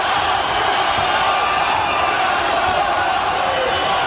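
A boxing arena crowd at the Erik Morales vs Daniel Zaragoza fight roars and chants a fighter's name, a loud, sustained wash of massed voices filling the whole stretch.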